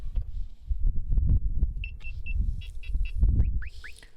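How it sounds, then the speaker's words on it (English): Radar detector beeping inside a Tesla Model 3 Performance: a few short, high electronic chirps and rising bleeps, fairly faint over low cabin rumble and handling noise. "Excuse the radar detector."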